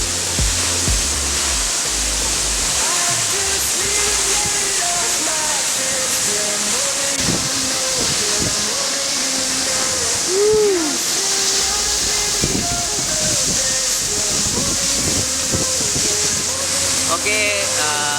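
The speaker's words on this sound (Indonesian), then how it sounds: "kita sekarang sudah berada di air terjun." A waterfall in Tabanan, Bali roars as a dense, continuous rush of falling water, close and loud throughout, with faint voices and birds in the background.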